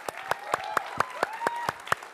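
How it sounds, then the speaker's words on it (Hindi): Steady applause from a televised political debate audience, with sharp bursts of clapping recurring about every quarter second, fairly close, with a faint tonal hum running underneath. "तालियां जबरदस्त"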